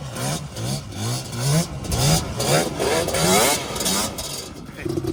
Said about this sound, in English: Rev it up a little once you get it in neutral.